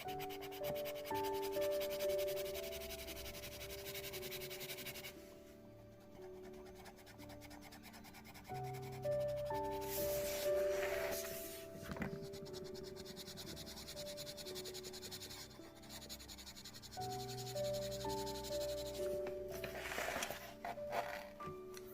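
A coloured pencil rubs and scratches across paper while colouring a mandala, a faint, continuous soft scraping under steady background music, with the pressure easing off at times.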